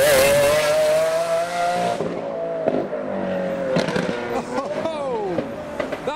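A Lamborghini Aventador S with a V12 engine passes near a business-park roundabout: a loud, high engine note holds and then falls away as it drives by, followed by softer revving and other traffic.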